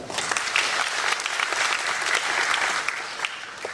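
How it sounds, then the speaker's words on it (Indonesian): A faculty audience at a university ceremony in Bali applauds an honored guest, a full room of continuous clapping that stays dense and even from start to finish. "Boleh tepuk tangan untuk beliau."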